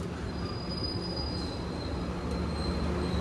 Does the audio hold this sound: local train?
yes